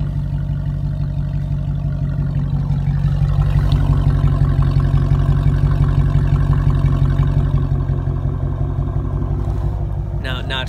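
A Dodge Challenger fitted with an SLP Loudmouth exhaust rumbles with a deep, steady engine note that swells slightly in the middle, close and loud throughout, ending with a short clatter.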